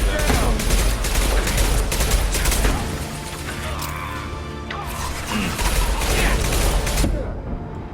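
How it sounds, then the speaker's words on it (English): A rocket launcher fires in the video game Mass Effect 2 amid loud, dense combat, with blasts and rattling gunfire crowding together at close range. "Rocket launcher."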